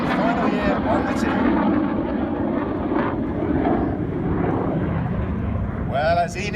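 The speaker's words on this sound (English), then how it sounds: "Red and blue smoke coming on the 4 jets of Enid, banking right as red 9 pulls to the vertical" Red Arrows jets streaming red and blue smoke at the 2019 Miramar Air Show fill the scene with a loud, continuous roar that rises and falls as they pass, while a commentator talks over it.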